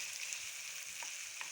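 Chicken for shawarma fries in a pan with a steady, dense sizzle, up close and continuous, with a couple of faint stirring scrapes and no talking.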